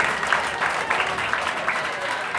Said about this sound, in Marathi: जोरदार टाळ्या वाजवून स्वागत